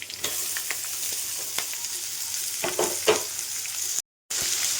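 Sliced onion and green chilli fry in a pan for egg rice, giving a steady, close sizzle with scattered stirring scrapes and clicks, cut by a brief silent gap near the end.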